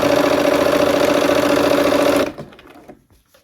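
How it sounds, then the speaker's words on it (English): A sewing machine runs along a quilt block seam with a close, even whir for about two seconds, then winds down and stops. "we're going to go ahead and sew that seam next"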